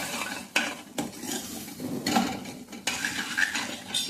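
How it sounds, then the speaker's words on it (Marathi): A spoon stirs a mixture of masoor and toor dal in a metal pot, making repeated scraping, knocking strokes with a soft sizzle under them. Each stroke comes close and fairly loud, in an uneven rhythm, and no voice is heard. "छान मिक्स करून टाकायचं।"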